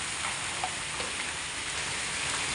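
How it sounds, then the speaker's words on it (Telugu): Heavy rain pours down in Chennai as a steady, uniform hiss of drops on surfaces, constant and unbroken throughout, with no voices over it. "చాలా పెద్ద వర్షం పడుతుందండి."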